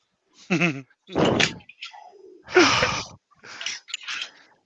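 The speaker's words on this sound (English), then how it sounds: "Lots of deep breathing and cleansing going on." Several loud, close deep breaths during a live evening broadcast, each a breathy rushing exhale with a wheezy, voiced edge, separated by short pauses over about five seconds.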